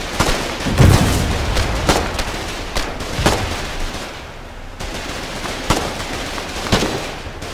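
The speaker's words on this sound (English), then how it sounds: "Oh, that was a sticky grenade." Sticky grenade blast in the war game Foxhole, set amid ongoing combat: sharp explosive cracks and scattered gunshots repeat every second or so, loud and close over a rumbling battlefield backdrop.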